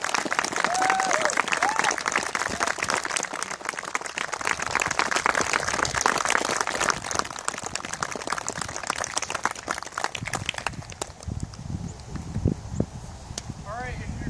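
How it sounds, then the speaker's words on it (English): Outdoor crowd applause at a campsite gathering, a long dense patter of many hands clapping with scattered cheers, tapering toward the end as voices and movement take over. "let's give him one big round of applause"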